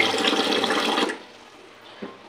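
Tap water pours strongly into a glass-measure of rice set to soak in a home kitchen, a loud steady gush for about a second before it cuts off, leaving quiet handling noises.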